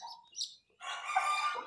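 Desi chickens and their chicks are kept at home; faint chirps and soft clucks come first, then after a short gap a louder, rougher fowl call rises and holds, heard at a modest distance.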